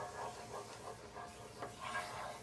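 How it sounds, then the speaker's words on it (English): Faint scraping of a utensil across a pan, loosening drippings for an orange sauce to go with sea bass, a soft continuous rubbing rasp with a few louder strokes, quiet and close. "So you're just going to scrape up whatever drippings are there."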